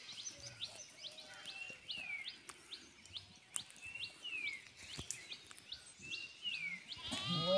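A flock of sheep moving together bleats again and again, many overlapping calls of varying pitch coming at a moderate distance, with no voices among them.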